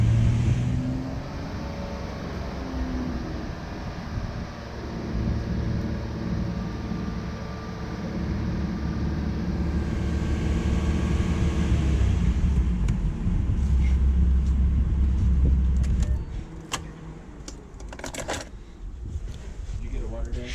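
A 2011 Ford Mustang V6 idles with a steady low rumble, then is given a little throttle so the engine note rises and settles back, while a person talks nearby.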